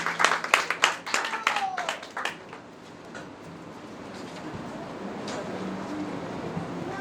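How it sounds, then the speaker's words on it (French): Brief, scattered clapping from a small audience at a beauty school graduation ceremony, a few seconds of claps that quickly fade into quiet room murmur and faint voices. "Applaudissez-la très fort,"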